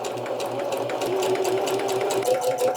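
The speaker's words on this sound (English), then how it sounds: "I'm going to go back to my zigzag stitch here." A sewing machine stitching a zigzag seam runs in a steady, rapid mechanical whir, close up, with a regular pulsing chatter of needle strokes and a faint rising hum underneath, no voices.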